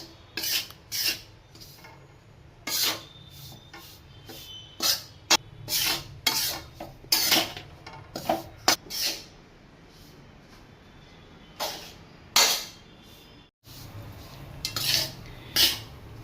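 Sukhadi flour roasting in ghee in a pan, stirred with a utensil that rasps and scrapes against the metal in irregular bursts over a soft steady background hiss.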